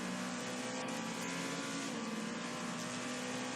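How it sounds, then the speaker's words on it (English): A number 7 Porsche race car in the IMSA Rolex 24 at Daytona, its engine a steady, continuous roar with a sustained tonal drone and no voices over it. "I'm loving the sound of this number 7 Porsche though, Jackson."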